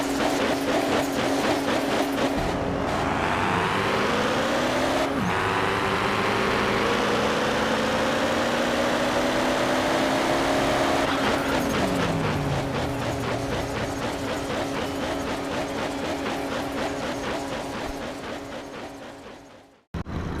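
Stock-condition Hoonicorn car engine in the Car Parking Multiplayer video game, a loud continuous drone that climbs in pitch through several gear shifts, then fades away at the end.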